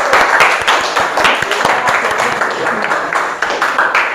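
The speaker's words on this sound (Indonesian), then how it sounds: "Kita kasih aplaus dulu ya anak-anak ya" Children in a classroom clapping together, a lively burst of many hands in fast uneven rhythm, loud and close, continuing steadily with voices mixed in.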